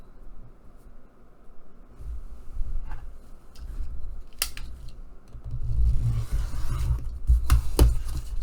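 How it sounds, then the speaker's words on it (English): Scissors snip through scrap paper during a paper-crafting session, giving a few crisp, close cuts spaced unevenly over a soft background rustle, with no talking. "Cut out this paper at 9 inches."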